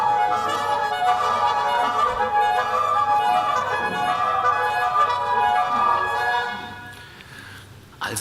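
A forged iron flute with a head of wax and clay plays a sustained, reedy tone rich in overtones for several seconds before trailing off near the end.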